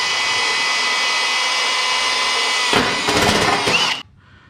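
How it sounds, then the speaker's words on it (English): A power drill cuts out the foot box panels of a Cobra Daytona build, running as a loud, steady whine close by, then growling harder with rough, uneven bursts as it bites through the metal before it abruptly stops. "So now I'm going to drill out these panels."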